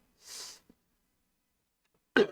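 A single breathy, hissing cough close by, a small catch a moment later, then a sharp, harsher cough after a short silence.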